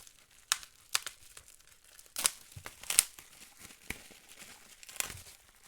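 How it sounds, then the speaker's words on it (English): Crumpled paper packing rustling and crinkling up close as a mail package is unpacked, in irregular bursts of crackles with a few louder tearing crunches; no talking. "Oh, nice and crumbled up paper there."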